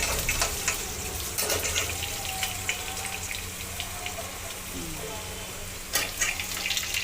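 Onions sizzling in a pan for chicken curry, a steady soft frying hiss running throughout with a few light clinks, no talk over it.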